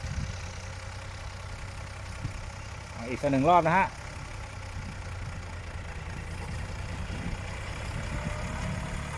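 A Ford 7840 six-cylinder tractor, 105 horsepower and non-turbo, idles with a steady low rumble throughout, while someone talks close by over the engine.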